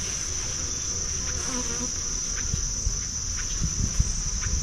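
Honey bees buzzing inside a beehive during installation of a new queen, a steady close hum with a high constant tone and faint bumps of movement.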